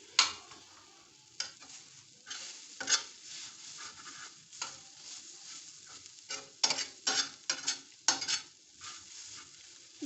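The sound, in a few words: onions and tomatoes frying on a tawa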